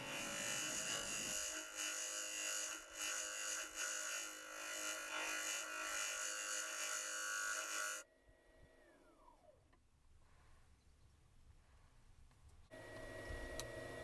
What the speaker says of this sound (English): I'm using the lower wing of the bowl gouge in a shear scraping movement, and that's just reducing it down to its final shape